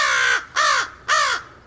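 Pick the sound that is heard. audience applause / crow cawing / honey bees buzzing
crow cawing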